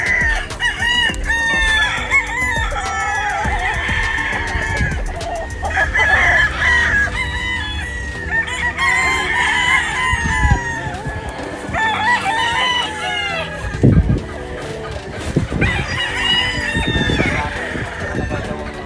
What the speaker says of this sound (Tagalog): huling sulyap na to sa mga manok na mga naka-cord di Boss Jepoy